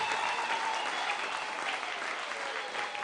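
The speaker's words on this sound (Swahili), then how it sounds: "Tupigie makofi." A church congregation claps together during a live gospel service, producing a steady even wash of applause that holds for the whole stretch, moderately loud and uninterrupted by voices.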